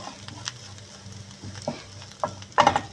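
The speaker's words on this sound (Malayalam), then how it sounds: "നന്നായി മൂക്കുന്നത് വരെ ഇളക്കി കൊടുക്കുക." Curry leaves fry in a pan while a spoon stirs them for pickle, giving a few sharp scrapes and soft knocks over a low sizzle, with a louder clatter near the end.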